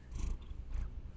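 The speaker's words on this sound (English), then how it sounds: "You can hear him purring." A fluffy male house cat purrs up close, producing a low, steady rumbling with soft breathy rasps, alone and without talk.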